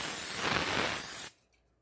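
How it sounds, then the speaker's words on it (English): Pam cooking spray hisses steadily onto a pan for just over a second, loud and close, then cuts off abruptly into near silence. "I just spray my pan, and I'm going to put a little bit more spray on it"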